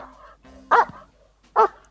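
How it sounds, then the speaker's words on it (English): A bulldog barks twice in short, sharp bursts about a second apart, with quieter whimpering tones between them, close and clear with no talking. "this bark is from Bruce, our bulldog"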